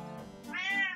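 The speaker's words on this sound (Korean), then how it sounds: "제 고양이가 너무 울어가지고" A pet cat indoors gives a single drawn-out meow, quiet but clear and alone, rising and stretching through about a second.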